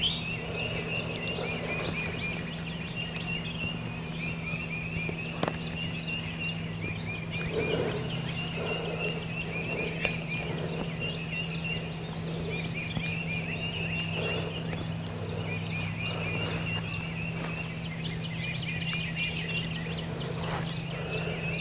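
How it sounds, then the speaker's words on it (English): A wild turkey gobbles in the woods during turkey hunting season, its rattling calls coming several times at a moderate distance over a steady background hum of insects, with no talk. "He gobbled, so he's not spooked too bad."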